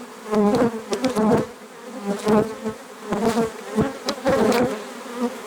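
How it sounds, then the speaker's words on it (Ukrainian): Bees buzz close by, the droning swelling and fading in repeated bursts as they fly past. "Ось як бджола йде із цього куточка на поле."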